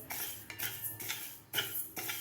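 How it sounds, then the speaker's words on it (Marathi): Dry rice grains being roasted in a wok, a steady rustling, scraping texture with repeated louder bursts as the grains are tossed and stirred, close and alone with no talk. "कढईमध्ये आपल्याला हा तांदूळ आता भाजून घ्यायचा आहे"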